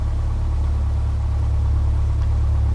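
A Piper PA-28-180 Cherokee engine in a flight simulator game idles with a steady, loud, low drone and rumble that holds even throughout.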